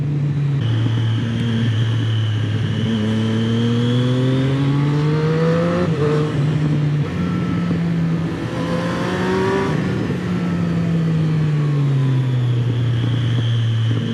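Yamaha MT-09 and Triumph Street Triple 765 motorcycles riding a road, engine tone climbing and falling through several gear changes in a loud, close, continuous roar with wind rush and no speech.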